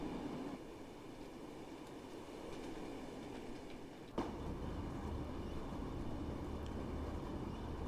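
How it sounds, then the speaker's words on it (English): Simulated train in the game Train Sim World 5 rumbles steadily with a broad, loud running roar, a brief clunk partway through and the noise thickening afterward. "Our train is loud."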